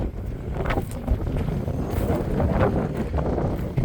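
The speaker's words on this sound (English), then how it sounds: "Man, it's windy out here." Strong wind gusting outdoors at a vehicle and tractor auction, heavy low buffeting against the microphone with rumbling surges and no talk.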